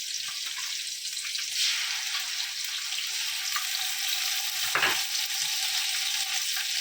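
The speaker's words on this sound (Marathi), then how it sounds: "हे कांदा टोमॅटोची प्युरी आहे, पूर्ण परतवायचं आहे." Onion-tomato puree with paste sizzles in a pan while being stirred for chicken biryani, a steady soft frying hiss with a brief scrape of the spoon midway, no voices.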